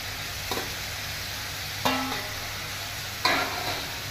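Fried potatoes go into a sizzling spice masala for ghugni, giving a steady low frying hiss broken by three sharp clinks of a spoon against the pan.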